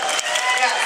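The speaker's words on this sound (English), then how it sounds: "Well, so you can applaud for it anyway." Applause from a large conference audience, a dense broadband wash of many hands clapping at once, steady and fairly loud through the short moment.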